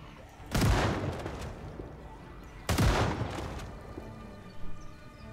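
Two loud gunshot blasts go off in the zombie survival game Project Zomboid, each a sharp boom with a ringing tail, spaced about two seconds apart, followed by quieter rumbling.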